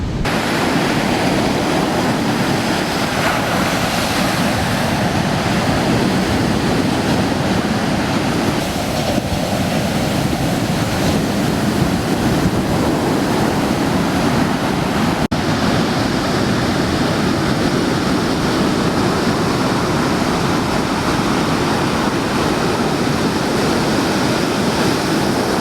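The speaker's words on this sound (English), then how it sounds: "we can get a better view at these waves from above" Big ocean waves break and surge at Waimea Bay, Hawaii, a loud continuous roar of surf with heavy wind rumble on the microphone throughout, no voices.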